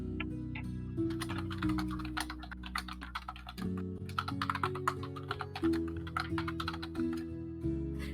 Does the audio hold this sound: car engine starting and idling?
no